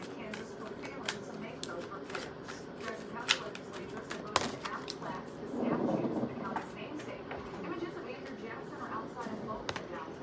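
Tarot cards being shuffled at close range, a soft riffling flutter with scattered taps and a brief fuller burst of shuffling midway through, set against a low room hum.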